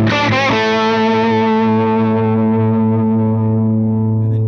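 Guitar played through a Fractal AX8 modeler using a Friedman small box tone stack, a loud, dense distorted chord struck with a few quick picks and then left ringing in a long, steady sustain.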